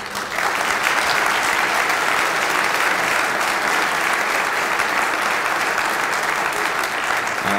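Sustained applause from an audience at the closing session and award presentation of a conference, loud and even for the whole stretch with no pauses or talk.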